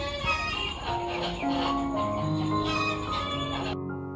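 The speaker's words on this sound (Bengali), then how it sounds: "বাইরে মুরগি ডাকে বাইরে" A chicken calls repeatedly outdoors, its bright, harmonic clucks and crow-like cries standing out over steady background noise, fairly near and moderately loud.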